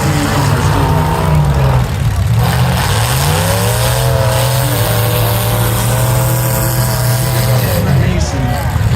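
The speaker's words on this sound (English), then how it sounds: "6 vehicles are still running." Big cars running in a demolition derby at a community fair: loud continuous engine roar with revving pitch swings throughout, a crowd noise bed, and an announcer talking over it.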